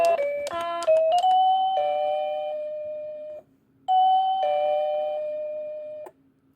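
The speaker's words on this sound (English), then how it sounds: "Okay, the doorbell, okay," An electronic doorbell plays a multi-note chime melody, pauses briefly, then plays a second tune, clear and close with no voices.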